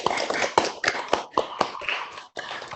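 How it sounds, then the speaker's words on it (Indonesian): Scattered, uneven clapping from a small group applauding a veteran at an online teacher-training session, with distinct individual claps and brief gaps. "Mari kita berikan tepuk tangan untuk veteran."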